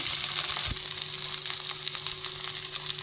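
Fish frying in hot oil until browned, a steady close sizzle with bright crackling spatter running throughout, plus a brief low knock near the start.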